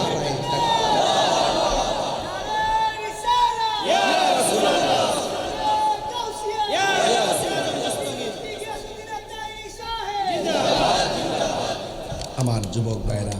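A large crowd at an outdoor Islamic sermon gathering in Homna roars the Takbir chant in several loud, swelling waves, each rising and fading, with a preacher's voice between them.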